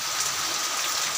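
Steady rain falling during the monsoon, a soft continuous hiss of drops on surfaces that stays even and moderately quiet throughout the short stretch, with no voices.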